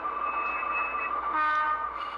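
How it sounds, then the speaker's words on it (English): A model Rock Island locomotive sounding its horn, a steady sustained multi-tone blast that shifts pitch partway through, heard close and alone with no talking. "So now our locomotive is going to head back to the yard to start building"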